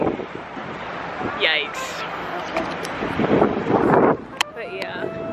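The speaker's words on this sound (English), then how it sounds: "And it's super windy." Strong wind buffets a microphone outdoors near a Manhattan boat cruise, making rough, gusty rumbling that rises and falls, with a voice speaking briefly over it.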